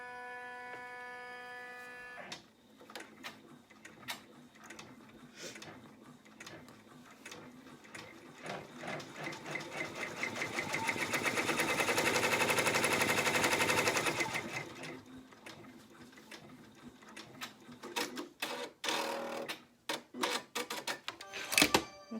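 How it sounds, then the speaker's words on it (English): An embroidery machine sews a placement stitch on an in-the-hoop zippered wallet, a steady rapid mechanical clatter and whir that swells louder in the middle and then breaks into choppier bursts near the end, with no talking. "Now it's going to go over and do the placement stitch on the other side."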